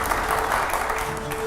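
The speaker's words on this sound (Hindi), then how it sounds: "अगले सवाल के लिए जोरदार तालियां हो यहां पर" Steady, loud audience applause fills a televised Hindi panel discussion hall, dense clapping without a break and no voices on top.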